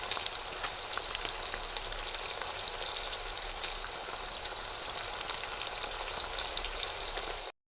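Meat frying together with sugar to imitate rain for a Minecraft sound effect, a dense, even crackle and patter that holds steady and close throughout before cutting off at the end.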